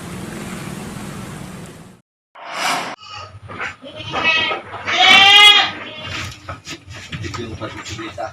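Goats bleat at a livestock setting in Lampung, with several loud, wavering calls rising above a steady outdoor background hiss and faint low rumble, separated by short pauses.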